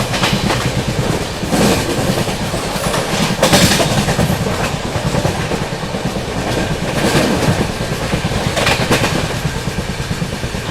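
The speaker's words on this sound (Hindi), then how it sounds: "सामने से आ रही है गोंदिया से चलकर कोल्हापुर की ओर जाने वाली महाराष्ट्र एक्सप्रेस" The Gondia–Kolhapur Maharashtra Express thunders past close by, loud and steady, with wheels clattering rhythmically over rail joints for the full stretch and no voices over it.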